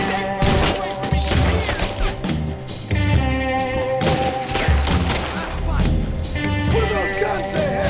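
Gunfire in Red Dead Redemption 2 rings out in a loud, dense fusillade of overlapping shots and crashes, mixed with music and voices in the game.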